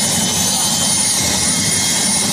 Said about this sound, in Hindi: आप देख सकते हैं स्टार्ट हो चुका है हेलीकॉप्टर